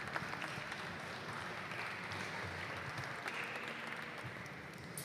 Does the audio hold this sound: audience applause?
yes